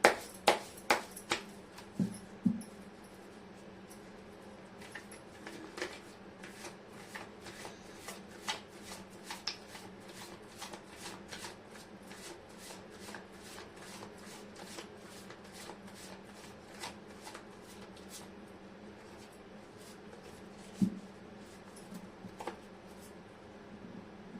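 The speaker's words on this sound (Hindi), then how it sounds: "मैं कर लेती हूँ कार्ड की शफलिंग।" A deck of tarot cards is shuffled again and again, making a long run of quick riffling flicks and crisp slaps at a steady pace. The sound is close and alone, and there are a few louder taps near the start and once later on.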